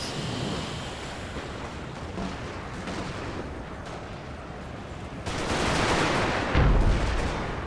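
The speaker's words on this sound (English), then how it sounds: "They're just lobbing howitzers in here, just trying to hit them on the advance" Howitzer artillery in an American Civil War Total War battle booms as dull, rumbling blasts over a steady wind-like battlefield wash. One heavier, closer thump rises near the end.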